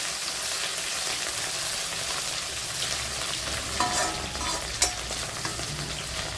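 Onions with green chillies sauté in a pan for egg noodles, a steady close sizzle with a few scraping stirs and small clicks near the end.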